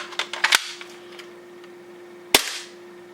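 An airsoft Glock pistol running on propane gas fires two sharp cracks a couple of seconds apart, preceded by light mechanical clicks and handling, close and crisp.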